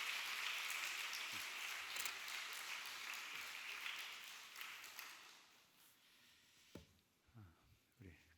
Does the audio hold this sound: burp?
no